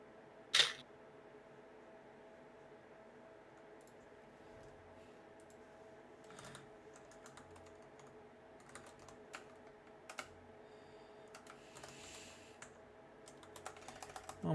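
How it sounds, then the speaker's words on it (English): Soft, steady typing on a computer keyboard throughout, with sparse clicky keystrokes over a quiet background hum and a couple of sharper knocks near the start and end. "Oh my god, this keyboard is annoying me today."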